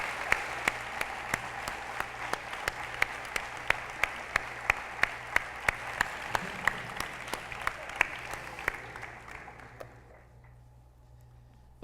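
Audience applause at a public talk: dense, steady clapping from a seated crowd that holds for about ten seconds, then thins and fades to near quiet.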